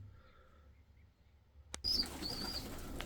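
A young blue (gök) pigeon flaps its wings in a sudden burst of wingbeats, followed by a steady fluttering rustle with a few faint high chirps, close and fairly loud.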